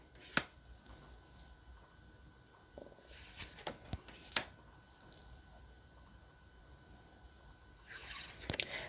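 Rune cards from a boxed deck are shuffled by hand, giving soft, brief papery rustles and a few sharp flicks in quiet bursts, close and faint.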